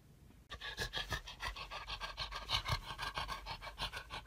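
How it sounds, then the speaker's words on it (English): Dog panting close to the microphone, rapid rhythmic huffing breaths starting abruptly after a brief hush and continuing steadily for several seconds, loud and alone. "Yo, man, is that your fucking dog?"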